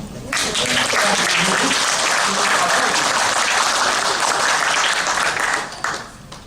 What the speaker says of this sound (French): il faut lui faire une ovation